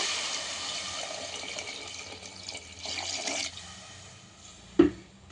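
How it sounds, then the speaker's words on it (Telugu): One litre of water splashes and pours steadily into a cooking pot for goat trotter soup, fading toward the end, followed by a brief metallic clink. "ఒక లీటర్ వాటర్ పోసుకుంటున్నా"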